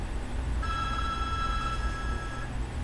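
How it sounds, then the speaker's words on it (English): A telephone rings in the background with a steady electronic tone lasting about two seconds, faint behind a constant low hum, with no talking. "Ignore the phone ringing in the background."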